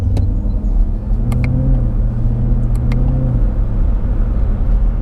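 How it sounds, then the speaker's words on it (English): Camaro ZL1 engine, loud and close, revving up with a strong low rumble and then dropping through downshifts as the pitch steps down, steady throughout. "I just love the downshifts in this car"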